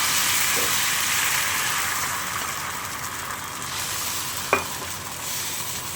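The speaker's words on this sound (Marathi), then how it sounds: "अर्ध्या चमचापेक्षा सुद्धा कमी आपल्याला तेल घालून घ्यायचं आहे आणि आपल्याला हे जे बॅटर आहे ते टाकून घ्यायचं" Dosa batter sizzles steadily in a little oil on a hot pan, a constant bright hiss throughout with a sharp clink of a utensil near the end.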